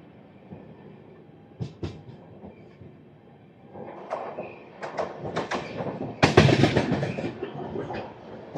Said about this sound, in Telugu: సో మన ట్రైన్ అయితే వెళ్తుంది